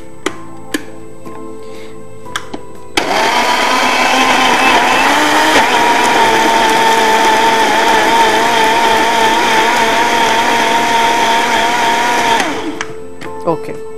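A loud blender blending tomatoes whirs continuously for about nine seconds, starting abruptly and cutting off sharply, with faint clicks before and after.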